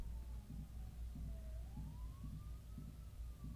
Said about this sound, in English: We got sirens in the background.